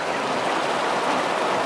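Heavy rainwater surging through a flooded street in a low-lying Jakarta neighbourhood, heard as a steady, dense broadband rush like a stream, continuous and fairly loud with no voices.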